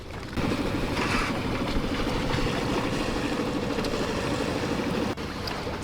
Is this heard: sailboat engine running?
yes